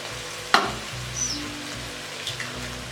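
Vegetables for fried rice fry and sizzle in a pan, a sharp stirring clatter near the start over a steady low hiss, with faint scrapes later and no voices.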